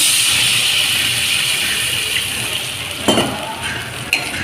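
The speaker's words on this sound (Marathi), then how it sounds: "आता हे सगळं परतून झाल्यावर यामध्ये पाणी घालायचं" Sautéed tomato and spice mixture sizzling steadily in a hot pan for tomato besan, with a sharper burst and splash as water goes in toward the end, close and fairly loud.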